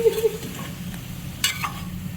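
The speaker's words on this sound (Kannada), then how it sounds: "ಲೋ ಫ್ಲೇಮಲ್ಲಿ ಇಟ್ಕೊಂಡು ಒಂಚೂರು ಮಿಕ್ಸ್ ಮಾಡ್ಕೊಂಬಿಡ್ರಿ." Badnekai palya, a brinjal dish, being stirred in a pan over a low flame, with soft scraping and a faint sizzle, plus one sharper clink of the spoon partway through; no talking.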